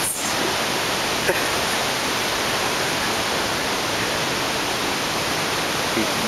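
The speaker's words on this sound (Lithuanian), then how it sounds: "Super fontanas!" A fountain sprays and splashes in a continuous, dense, even rush of water, loud and close, steady from start to finish with no pauses or talk.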